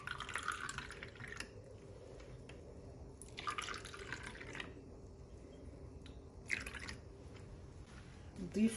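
Water poured into juice for homemade ice lollies, heard as several short, close bursts of trickling and splashing liquid separated by quiet gaps.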